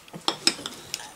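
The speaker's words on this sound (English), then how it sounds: "Cutting the mushrooms up." A dull, well-used knife cuts hot cooked mushrooms. Four or five sharp, close taps come at an uneven pace, with quiet pauses between the cuts.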